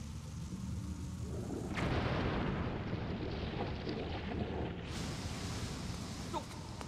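Bombs going off in Zelda: Skyward Sword, heard as a loud broadband burst around two seconds in and another near five seconds, over a dense rumbling game soundscape with no speech.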